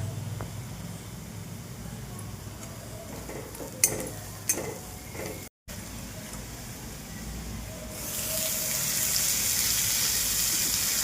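Onion sautés with salt, red chilli powder and turmeric in a pan for kurdai kanda bhaji: a few utensil clinks and stirring scrapes, then the sizzle swells into a loud, steady hiss.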